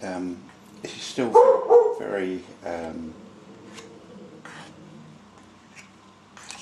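A dog barks at a postman in a few loud bursts early on, then fades to faint yips, with a person talking over and after the barking indoors.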